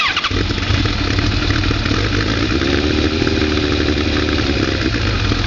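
Kawasaki ZRX motorcycle engine idling steadily up close, a loud continuous rumble with the rapid chattering rattle typical of its Mikuni carburetors, no talking.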